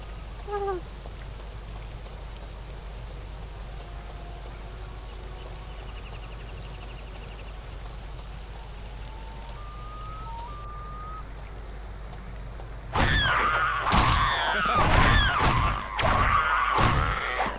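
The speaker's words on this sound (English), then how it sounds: "I like rain in this game." Steady rain patters in a video game, a soft continuous hiss that runs throughout before a louder burst of game noise takes over near the end.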